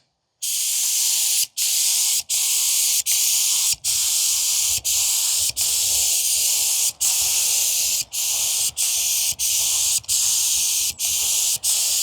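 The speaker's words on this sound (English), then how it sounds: "We're going to commence to spraying this thing." A loud, steady spray gun hisses in long bursts while spraying Raptor bed liner onto a jon boat, briefly interrupted over a dozen times by short pauses, close up and with no talking.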